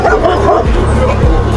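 Yipping, excited dog barks mixed with a tense crowd hubbub, the dog close and repeating several times amid overlapping voices.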